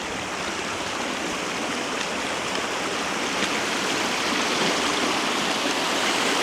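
Rushing white water in a river, its most aggressive stretch, roars steadily and loudly up close as a dense, unbroken wash with no voices.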